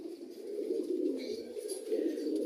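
Pigeons in a loft in winter give a steady, low murmuring coo that runs without a break, fairly close and moderately loud, with no talking.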